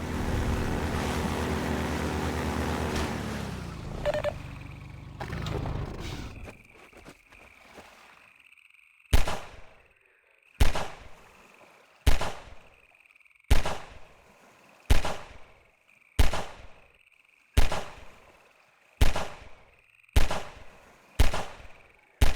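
Gunfire in Half-Life 2, a steady series of about ten loud, evenly spaced single shots, each with a sharp crack and short ringing tail, following a stretch of dense mechanical noise at the start.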